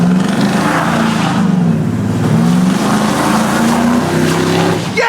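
A supercharged truck accelerating on a drive, engine loud and close with rising and falling pitch as it pulls through gears, steady roar throughout.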